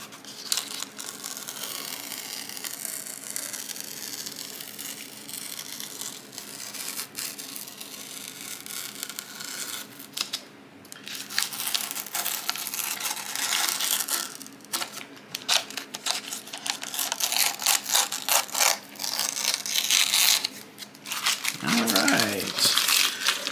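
Masking tape being peeled off the hull of a 1/350-scale USS Lexington CV-2 model ship, a long stretch of close crackling, tearing and crinkling that rises and falls in bursts, with no talking.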